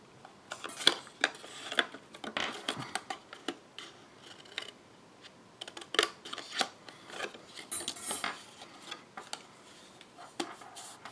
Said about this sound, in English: And then I'm just going to cut up to right there.